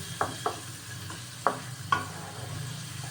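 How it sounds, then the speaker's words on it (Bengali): Onions fry in a hot pan under a low steady sizzle while a spatula scrapes and knocks against the metal in a few sharp, irregular strokes, heard close and fairly quiet. "গরম করায় খুব তাড়াতাড়ি পেঁয়াজ ভাজাটা হয়ে যাবে"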